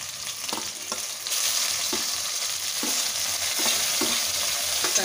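Shallots, green chillies, tomato and curry leaves sauté with fenugreek in hot oil, a dense steady sizzle broken by regular scraping strokes of a stirring spoon, close and loud.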